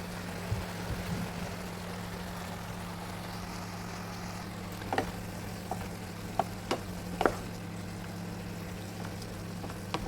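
Mixed beans and vegetables with crushed peppercorns frying in a pan: a low continuous sizzle with a steady hum beneath, broken by several light clicks and knocks as the pan is shaken, with no talking.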